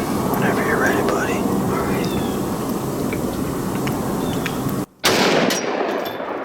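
A single sharp rifle report cracks close by during a youth deer hunt in the field, following a stretch of whispered talk and rustling background noise.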